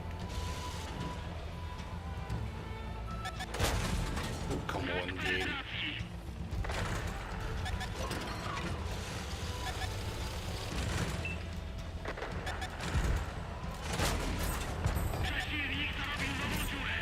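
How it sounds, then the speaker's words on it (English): Tank cannon fire in World of Tanks on console: several heavy booms and impact crashes at irregular intervals over constant engine rumble, with a voice talking now and then. "He's not just shooting at me."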